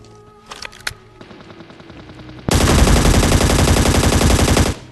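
Rapid automatic gunfire from the mobile shooter game ScarFall 2.0, with a few sharp single shots and clicks followed by a loud, sustained burst of rattling fire lasting over two seconds, up close.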